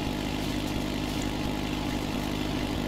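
A Ford 5610 tractor runs steadily while tedding hay, its engine droning loud and close from a low vantage, unbroken for the whole stretch and with no talking.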